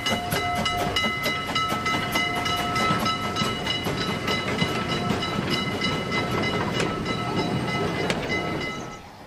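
A freight train departing on the narrow-gauge Preßnitztal railway, rolling steadily with loud rhythmic clickety-clack and metallic clanks of wagons close by, fading slightly at the end.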